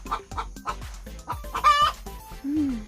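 A duck on a farm calls noisily just before laying an egg, giving a string of close, clucking squawks in short bursts with a louder, rising call near the end.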